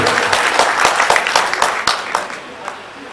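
An audience claps loudly at an MSU foundation event, dense overlapping applause with sharp individual claps that gradually thins and fades toward the end.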